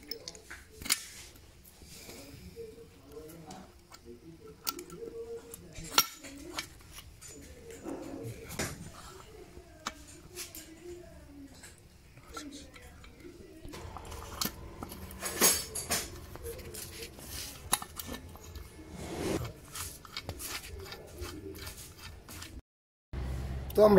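Metal motorcycle engine parts clink and scrape during gearbox assembly, with scattered irregular knocks and taps in a workshop, up close, while someone talks intermittently.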